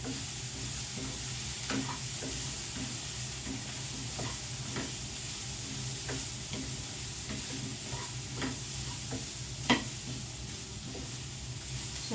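Grated coconut sizzles steadily in a hot pan while a spoon scrapes and stirs through it in scattered taps, a constant frying hiss underneath, close and moderately loud with no talking.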